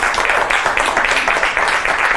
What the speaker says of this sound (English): Give him a round of applause as he makes his way up